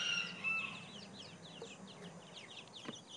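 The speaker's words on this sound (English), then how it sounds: "show you how my birds come out of their pen in the morning" Backyard birds leaving their pen in the morning, giving a steady stream of close clucks and chirpy calls with a few sharper notes, and no talking.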